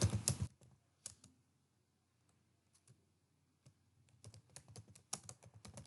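Typing the word computers on a computer keyboard in MS Word: a quick burst of loud key clicks, a few scattered taps through a quiet stretch, then another run of clicks, close and isolated.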